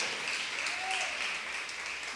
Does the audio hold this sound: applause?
yes